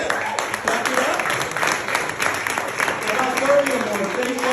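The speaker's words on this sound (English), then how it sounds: "Clap it up." Applause from a standing audience at a weight-loss group event, steady dense clapping with a few voices mixed in throughout.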